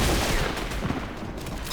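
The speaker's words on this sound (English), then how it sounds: "He one pumps using the dub shotgun." Rapid shotgun blasts from a double-barreled dub shotgun in the Fortnite battle royale video game, a dense burst of gunfire and booms over continuous loud game noise.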